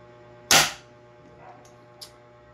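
A single sharp shot from an upgraded double bell VSR10 airsoft rifle, close and loud, followed by a faint thump and a small click in otherwise quiet surroundings.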